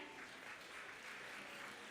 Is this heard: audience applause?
yes